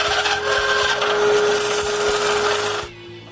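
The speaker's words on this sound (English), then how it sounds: "Now that the glue is dry, it's time to sand all the exterior parts." A handheld sander smooths the exterior wooden parts of a bandsaw box, giving a steady, loud abrasive whir with a constant motor hum that stops abruptly near the end.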